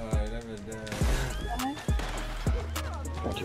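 A horse whinnies in the online multiplayer Western game Red Dead Redemption 2, with several sharp thumps throughout and people talking over it.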